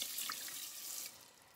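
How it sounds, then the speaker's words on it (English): Water runs steadily from a tap, filling a measuring cup for rice in a rice cooker pot. The pour is soft and close, with a slight drop near the end and no talk. "I'm going to go ahead and put a cup of water in there too"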